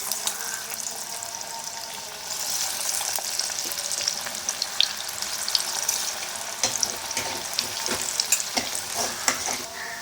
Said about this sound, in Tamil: ஆயில் ஹீட் ஆகிடுச்சு. இப்போ நான் காலிஃப்ளவரை இதில் ஆட் பண்ணுறேன்.